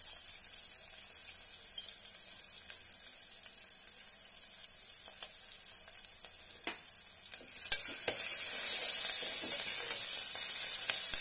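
Curry leaves with crushed ginger and garlic sizzle steadily in a pan for a pumpkin curry, the frying hiss swelling louder and brighter about two-thirds through, with a sharp crackle at the jump; no one speaks.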